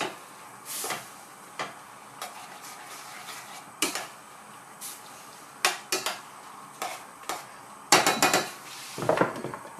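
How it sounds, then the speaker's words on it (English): A spoon stirring Thai green coconut curry with marinated chicken in a pot, giving sparse scattered clinks and knocks against the metal over a quiet room. "Okay, a little stir."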